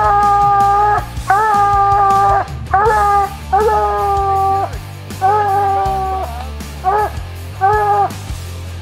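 Coon hunting hounds bay loudly and repeatedly, long drawn-out howling calls overlapping from several dogs, close and insistent with brief gaps.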